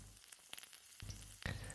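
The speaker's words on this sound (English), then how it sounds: "Now that the butter is getting all melted in the pan, we add the garlic we minced earlier." Minced garlic dropped into melted butter in a pan, a soft sizzle that swells as it lands, with a few light clicks and a louder burst of frying near the end, quiet and close.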